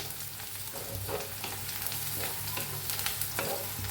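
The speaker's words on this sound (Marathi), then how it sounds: "कांदा जरा भाजला या आणि त्याच्यात हळद टाकूया चांगलं हळदीला बी मिक्स करून घेऊया" Onion and chillies fry with turmeric in a pan, making a constant crackling sizzle broken by repeated scraping stir strokes, close and continuous without talk.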